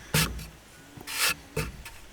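A hand blade scrapes across solid oak on an old radio cabinet in three short, rasping strokes, close and fairly loud, with brief pauses between passes and no talk.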